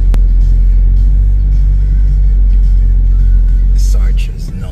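A car being driven on a Sunday in Makati, Philippines, heard from inside as a loud, steady low engine and road rumble that eases off near the end, with a voice talking over it.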